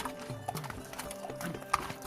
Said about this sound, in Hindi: घोड़े भी इसमें पैर जमा जमा के चल रहे हैं।